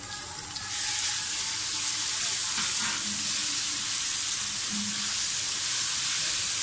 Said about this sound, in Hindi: लहसुन अदरक का पेस्ट डाल दें।